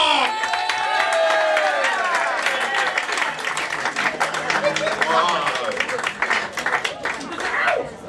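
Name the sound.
audience applause and cheering for comedian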